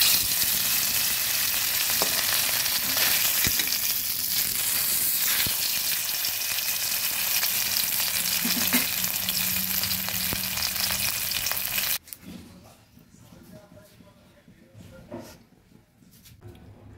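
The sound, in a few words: katla fish pieces frying in oil in a wok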